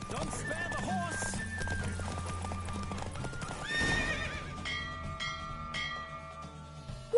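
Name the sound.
horse galloping in the video game Witcher 3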